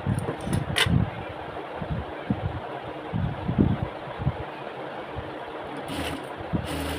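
A sewing machine stitching the second seam of a salwar, running in a steady close mechanical whir with uneven rhythmic thumping, with no talking.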